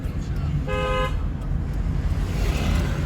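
A car horn gives one short, clear toot amid steady road traffic rumble, heard from inside a vehicle on a city street.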